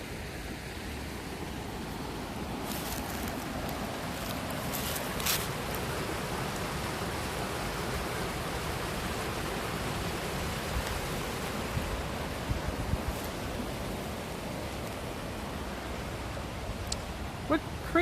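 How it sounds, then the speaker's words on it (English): Hay Creek flows steadily past old railroad ties near a quarry, a broad continuous rush of water with no pauses and a few faint clicks and knocks scattered over the top. "This is Hay Creek."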